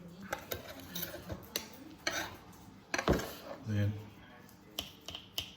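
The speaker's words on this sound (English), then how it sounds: "mix it together" Herbs and garlic are mixed into butter in a bowl with a utensil, making soft scraping and tapping clicks in an irregular rhythm, with a brief spoken word.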